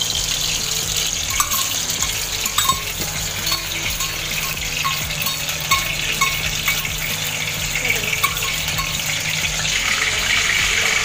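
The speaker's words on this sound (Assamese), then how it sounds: "মই এতিয়া ঘিখিনি ঢালি দিম" Ghee pours into a hot pan while macaroni pasta is being cooked, giving a steady bright sizzle and liquid hiss with small clicks throughout, fairly close and unbroken.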